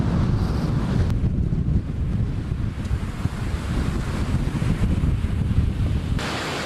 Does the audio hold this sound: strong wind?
yes